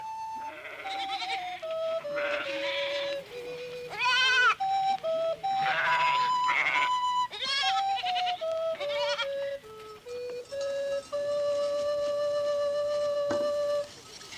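Goats in a dirt corral bleat over and over, with several animals calling in short, overlapping cries that rise and fall, loud and close with brief pauses between calls.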